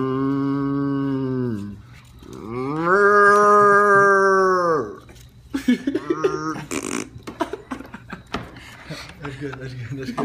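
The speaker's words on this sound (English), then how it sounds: "Lest we not forget about cattle." Two long, drawn-out cattle moos sound close and loud one after the other. A person then talks over faint background noise.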